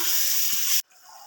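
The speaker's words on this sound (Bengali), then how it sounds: "দিয়ে দেবো সামান্য পরিমাণ পানি।" A small splash of water goes into a pan of shrimp frying with onion and garlic, giving a loud, close, steady hiss that cuts off abruptly and leaves a quiet residual sizzle.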